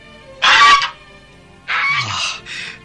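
Two loud, close honks from a Canada goose, used as an audio drama sound effect, the second call longer and slightly broken.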